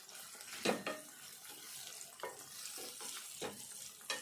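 A spoon stirring green chilli chicken curry in a pan, soft scraping strokes at an irregular pace over a faint sizzle, quiet and close.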